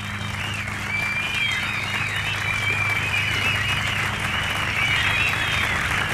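An audience claps steadily for the fourth-year students coming on stage at a school celebration, a continuous dense wash of applause with a low hum underneath and no break.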